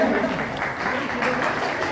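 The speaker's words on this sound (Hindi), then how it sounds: "जोरदार ताली स्वागत करें।" Audience applause at a Buddhist community gathering with the Samata Sainik Dal, welcoming a speaker to the stage; steady, dense clapping continues for the whole stretch with no clear breaks.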